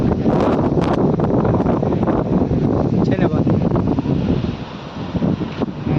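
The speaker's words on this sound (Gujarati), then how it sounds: "અમારો અવાજ ઓછો આવે કારણ કે દરિયાનો અવાજ વધારે આવે ને પવન છે" On a beach under rainy, stormy skies, strong wind buffets the microphone in a loud, constant roar while sea surf churns beneath it, and people talk over the din throughout.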